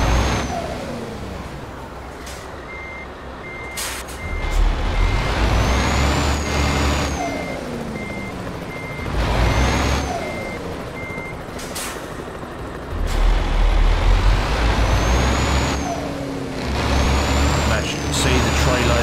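Euro or American Truck Simulator game audio: a truck reverses with steady repeating warning beeps, sharp air-brake hisses and a rumbling engine, while someone talks over it.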